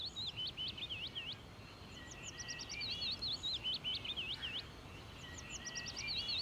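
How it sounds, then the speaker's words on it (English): Birds chirp and trill outdoors in quick repeated bursts of high calls, fairly clear, over a steady low background hum. "Why do I hear birds all of a sudden?"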